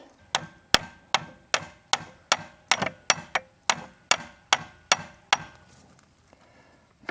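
Hammer tapping on a worn Caterpillar excavator track part, about fifteen sharp metallic strikes in an even rhythm, close and distinct, stopping near the end with no talking.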